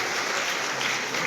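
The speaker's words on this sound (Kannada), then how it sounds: "ಜೋರಾಗಿ ಚಪ್ಪಾಳೆ ತಟ್ಟಿ ಭಕ್ತಿಗಳನ್ನು" Steady applause from devotees at a Babaladi mutt gathering in Kalaburagi honouring a guru, a moderately loud, even wash of many hands clapping without breaks.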